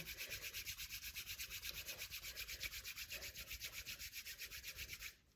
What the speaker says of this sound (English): bringing your hands together and rubbing them so they get nice and warm